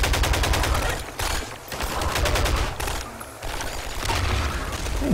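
Shotgun blasts and gunfire ring out in Half-Life 2 during a fight at Nova Prospekt, a loud chaotic series of sharp repeated shots in clustered bursts with short lulls between.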